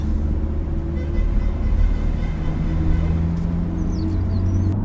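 A BMW M2 pulls away with a steady low engine rumble and broad road noise, heard from inside or close by, continuous and fairly loud throughout.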